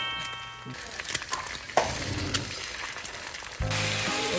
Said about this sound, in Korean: 일단 계란 후라이.